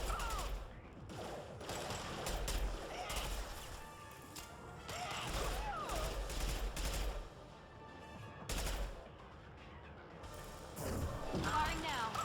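Gunfire and mechanical clatter from the Mass Effect 2 video game on Illium, coming in repeated loud bursts of shots with short lulls between them and some faint voices in the mix.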